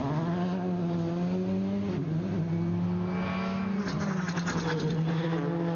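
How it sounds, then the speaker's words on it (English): A rally car accelerates hard on tarmac toward the finish line at a night event, its engine a loud sustained drone that rises in pitch, drops briefly at a gear change, then climbs again. "back onto tarmac, and then accelerating up towards the line."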